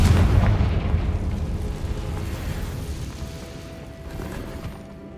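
A Confringo fire spell explodes in Hogwarts Legacy, with a deep, loud boom at the start that rolls into a long, fading rumble.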